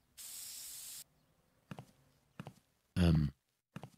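A spray can hisses in a cleaning action in the game Toilet Management Simulator: a steady one-second burst up close, followed by a few short sprays and clicks spaced out through the rest.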